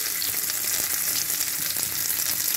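Onions sizzle and fry steadily in a hot pan for a savoury breakfast dish, a dense continuous hiss with small crackles, close and fairly loud, with no talking.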